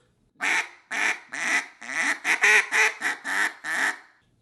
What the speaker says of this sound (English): You can add some grunt into a quack to make more sounds.